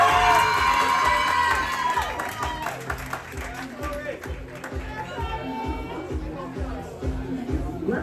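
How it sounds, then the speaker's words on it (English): Audience at a junior tourism ambassador pageant applauds and cheers for a contestant, a steady crowd roar with clapping and shouts that fades slightly midway and swells again, with voices mixed in. "please give a round of applause for Chloe Glasgow Jackson."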